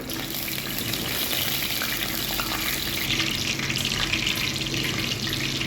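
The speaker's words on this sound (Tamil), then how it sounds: "எண்ணெய் காஞ்சிட்டு ஜீரகம் சேர்த்துருக்காங்க" Cumin seeds crackle in hot oil as the base for a Tamil fish curry, a steady, dense sizzle that runs loud and unbroken the whole time with no voices.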